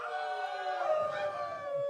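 An audience at an open-stage acoustic music night howls together, several voices imitating wolf howls in a sustained, overlapping chorus that holds steady for a couple of seconds.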